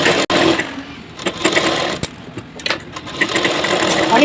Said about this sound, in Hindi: इसको भी सेम उसी तरीके से सिल लेते हैं डबल सिलाई लगा के